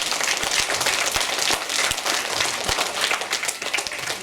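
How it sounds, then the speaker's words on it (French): Audience at a school recital applauds a flute and spinet duet, dense steady clapping from a crowd sustained throughout with no talk over it. "On peut les applaudir bien fort."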